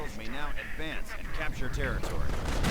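Booby traps explode in a WWII strategy video game, with dull booming blasts and gunfire-like cracks under a commentator's continuous talk.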